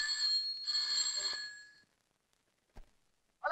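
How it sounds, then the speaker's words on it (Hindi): An old telephone rings in a 1972 Hindi film: two bright, shrill electric bell bursts sound close and loud, then stop, leaving near silence with a faint click. "ओ फोन चिल्ला क्यों रहे हैं?"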